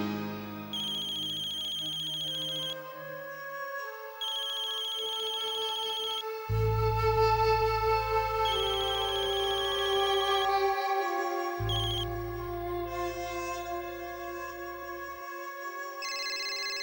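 A phone plays a melodic ringtone while an outgoing call waits to connect, looping a bright electronic tune with a deep bass pattern for the whole stretch, steady and clear.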